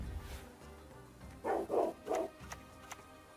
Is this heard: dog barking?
yes